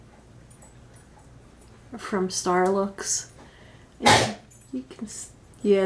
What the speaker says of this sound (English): that's the dog, by the way.